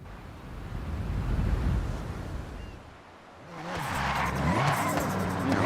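A sports car engine revs in the Forza Horizon 6 racing game, a steady mid-volume drone that dips briefly before a broad rushing, whooshing wash swells up over it.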